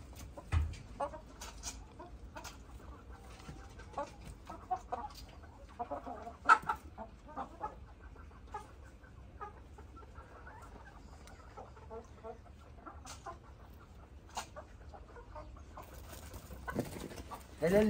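Roosters crowing and hens clucking in a steady farmyard chorus in a video game, with scattered bird calls over a low background hum.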